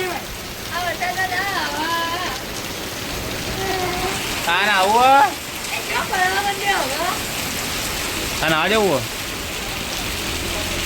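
Heavy rain falls steadily as a dense, even hiss throughout, with several people talking over it in bursts.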